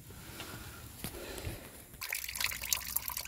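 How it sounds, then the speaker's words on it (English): Honda blue coolant drains from a Honda Pilot 3.5-litre engine during water pump replacement, a soft liquid trickle that turns into a louder splashing stream partway through. "as you can see, the nice Honda blue coolant is draining."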